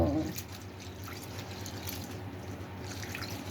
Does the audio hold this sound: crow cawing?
no